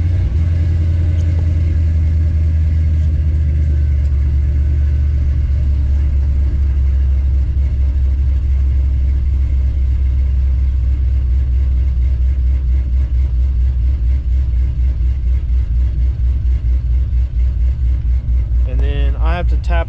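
An 88–98 Chevy C1500 truck engine idles for twenty seconds in a steady, loud, low rumble with an even pulsing beat that stays constant to the end.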